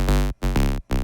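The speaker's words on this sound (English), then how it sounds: "Just basic square wave." A buzzy, hollow square-wave synth tone plays three times in a row, each held briefly and separated by short gaps of silence.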